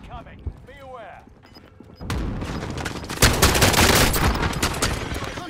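Gunfire in a shooter video game, with dense rapid bursts and repeated shots that grow loud and steady after a quieter start, with a voice talking briefly early on.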